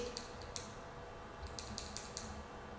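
Lumintop ODL20C V2 flashlight switch clicked several times, sharp little clicks, one single and then a quick run of four, close and faint over a quiet background hiss.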